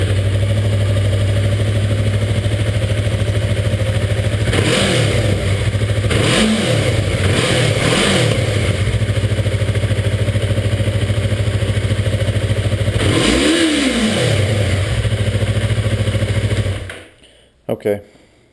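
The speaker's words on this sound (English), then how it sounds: "this is pretty much a cold start" A Yamaha R3 motorcycle with its stock exhaust idles loudly and steadily at close range after a cold start. Several sharp revs rise and fall over the idle before the engine cuts off near the end.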